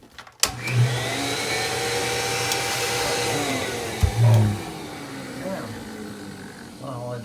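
A vintage 1952 Electrolux vacuum cleaner switches on with a thump and runs as a loud, steady motor whir and hum, with a brief bump near the end and a voice faintly audible.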